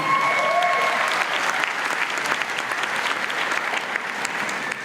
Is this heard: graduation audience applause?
yes